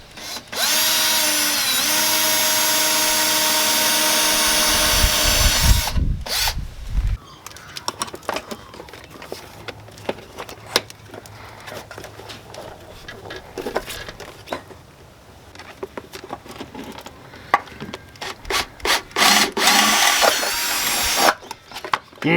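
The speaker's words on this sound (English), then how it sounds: "Now let's do some drilling." A power drill bores holes in a panel of a 2005 Subaru SG Forester, loud steady whine for about six seconds, then clatter, handling knocks and short bursts of drilling, with no talking.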